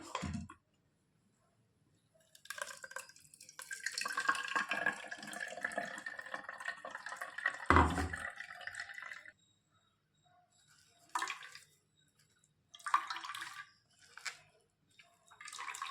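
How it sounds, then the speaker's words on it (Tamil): Ground carrot and coconut mixture strained through a filter, giving bursts of trickling liquid and wet squeezing that start and stop, with a thud near the middle and short splashy pours toward the end, near and without talk. "இப்போ இதை வந்து நம்ம ஃபில்ட்ரு பண்ண போகிறோம்"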